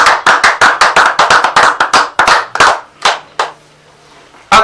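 A church congregation claps in unison to acclaim the king of kings, a quick run of sharp, rhythmic handclaps that slows and thins out into a couple of scattered claps, then a pause before one last clap.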